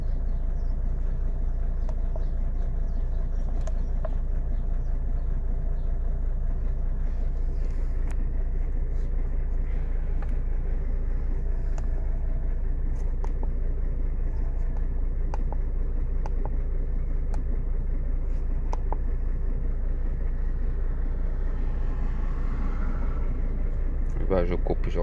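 A Renault Clio 2 dCi diesel engine idles roughly, a steady low rumble with a slight tremble that runs throughout, while a person talks over it.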